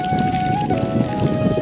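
Water sprays steadily from an outdoor shower in an open village yard, a dense continuous hiss like falling rain, close and unbroken throughout.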